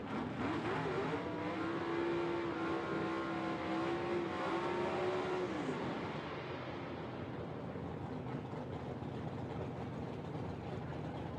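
Gasser drag race car at Knoxville Dragway roaring loud and close, engine note climbing in a steady high drone through the run, then cutting away after about six seconds into a broad fading rumble.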